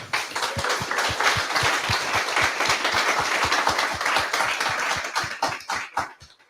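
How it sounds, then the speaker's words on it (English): An audience at a product management meetup applauds a speaker, with a dense wash of clapping and a steady rhythmic beat of unified claps running through it. It carries on for several seconds and then tapers off. "Big round of applause for Rahul."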